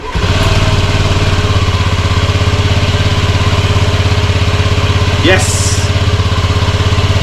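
A Honda Scoopy Metropolitan scooter engine catches and settles into a steady, loud, close idle with an even putter that runs the whole time, and a voice cheers briefly near the end.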